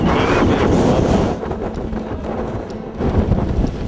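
Gusty wind with rain in New Zealand rushes and rumbles against the microphone, loud at first then easing slightly before picking up again.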